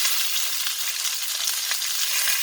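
Rabbit pieces frying in a pan of butter and oil for a mushroom and tarragon dish, giving a loud, constant hiss and crackle of sizzling fat, close up and with no voices.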